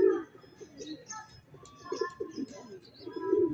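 Racing pigeons just back from a timed long-distance release in Sariaya, Quezon coo in low, throaty bursts, close and fairly soft, repeating at uneven intervals through the clip.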